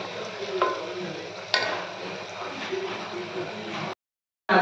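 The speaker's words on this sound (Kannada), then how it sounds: "ಸೊ ಆನಿಯನ್ ಈ ಥರ ನೀಟಾಗಿ ಫ್ರೈ ಮಾಡಿಕೊಂಡು" Onions for Hyderabadi dum chicken biryani fry and are stirred in a pan, giving a steady sizzle with scraping, one sharper clatter midway and a sudden brief cut to silence near the end.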